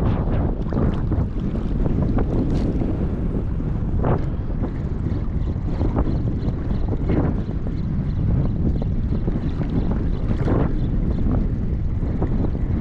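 Powerful wind roars continuously against the microphone during ultralight fishing in the Philippines, loud and unbroken, with occasional knocks and splashes beneath the rush.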